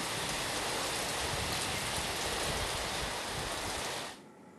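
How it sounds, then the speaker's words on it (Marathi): Heavy pre-monsoon rain pours down in Yeola, Nashik, as a dense, loud, continuous roar of falling water that cuts off abruptly near the end. "नाशिकच्या येवला शहरासह अनेक भागात जोरदार पाऊस झालाय"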